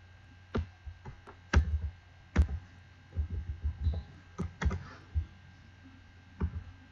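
A computer keyboard clicks with a handful of separate keystrokes and short clusters of taps, heard close over a low hum, as Ctrl C and Ctrl V shortcuts are pressed while working in Macromedia Flash 8 Professional.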